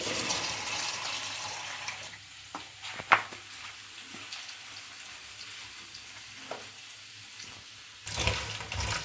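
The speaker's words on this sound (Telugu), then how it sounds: "నేను ఇందులోనే వేసి కడిగేస్తున్నానండి బాగా డస్ట్ పోయే వరకు" Drumstick leaves are washed in a vessel of water, with sloshing and splashing from hands stirring the leaves, a few sharper splashes, and louder running water near the end.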